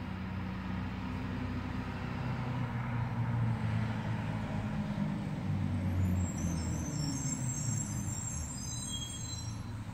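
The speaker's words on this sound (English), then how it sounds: "there's a school bus" A school bus passes outside, heard as a muffled, fairly faint low engine rumble that swells slightly midway and then fades, steady and continuous with no talking.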